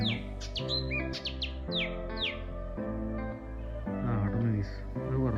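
Birds chirp outdoors in a quick run of short, bright calls near the start, then fewer, over a steady, loud tonal hum that fills the background.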